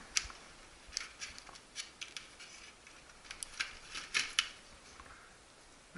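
Small clicks and scrapes while a battery is pulled from a Dromida Ominus RC car after its plug is unplugged and its tape peeled back. The handling is quiet and close, in irregular bursts with no talking.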